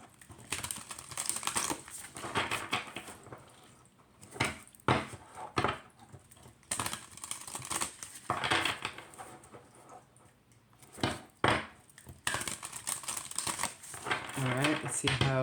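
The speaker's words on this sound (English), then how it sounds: "Warm up the deck." A thick Conscious Creatures Oracle card deck being side-shuffled by hand, giving repeated bursts of crisp clicking and papery clatter that rise and fall in close, uneven clusters.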